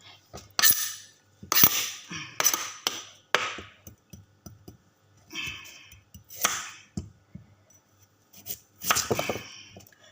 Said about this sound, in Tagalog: So, hahati-hatiin na naman natin to para ilagay natin sa machine.